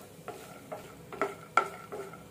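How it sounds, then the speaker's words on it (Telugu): Dry fruits and almonds frying in ghee for a jaggery carrot-coconut laddu, heard as a soft low sizzle broken by a few separate stirring scrapes and light clinks of a spoon against the pan, close and quiet. "డ్రై ఫ్రూట్స్ ఫ్రై అయ్యాయి"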